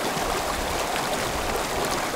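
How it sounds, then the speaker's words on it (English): Steady rushing flow of the Farmington River in Connecticut on a fishing day, a continuous broad wash of water heard close and unbroken, with no voices. "it's a gorgeous day to be down by the river"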